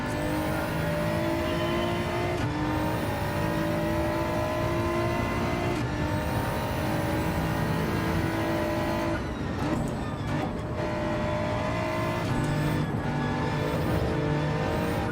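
Race car engine in Gran Turismo 7, played in VR, roaring continuously at high revs with repeated rising pulls and brief lifts between gears, loud and steady throughout.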